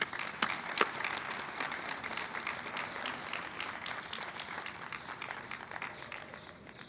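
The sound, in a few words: audience applause for speaker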